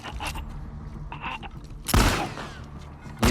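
Shotgun blast in The Last of Us Part 2, a loud sharp burst with a booming tail, set among scraping and rustling game sounds.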